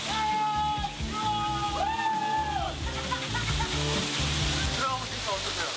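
A waterfall pours down continuously in a loud, dense wash that stays steady throughout, with people's voices and other tonal sounds above it at a popular waterfall spot.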